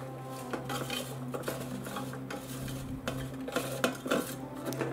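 Cayenne pepper and paprika being tossed into potatoes for home fries: a utensil scrapes and clinks against a bowl or pan in a busy, irregular stirring rhythm, close and fairly quiet, with no talking.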